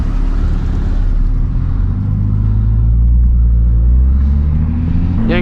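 Nissan 350Z engine while driving at sunset, a loud, steady low rumble with a deep droning tone that swells slightly before a brief higher whine near the end.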